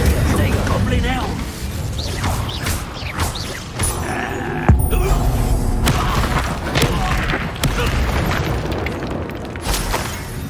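Spell combat against a goblin in Hogwarts Legacy: repeated booming magical blasts, crashes and bursts in quick succession, mixed with character voices calling out during the fight.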